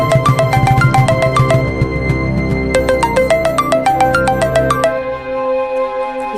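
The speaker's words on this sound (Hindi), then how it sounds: "लीना, किसका फोन है?" A mobile phone ringtone plays a bright, repeating electronic melody, loud and close, continuing for several seconds with no talking over it, in an indoor scene of a Hindi web drama.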